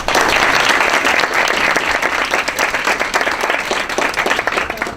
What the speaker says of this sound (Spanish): les pido también un aplauso para nuestro amigo